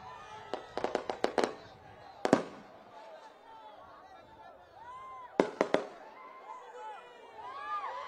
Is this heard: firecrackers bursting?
yes